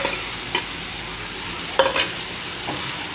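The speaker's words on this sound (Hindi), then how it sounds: "अब इसमें ये भिंडियाँ मिक्स होंगी।" Okra being stirred and fried in a pan for Sindhi bhindi fry, a soft steady sizzle with a few scattered spatula scrapes and one sharper clack, close and quiet, no talking.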